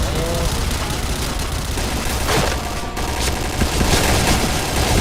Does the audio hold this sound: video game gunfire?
yes